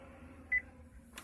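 A Chevy beeps once to confirm remote keyless relearn mode, a short, faint electronic tone in a quiet interior.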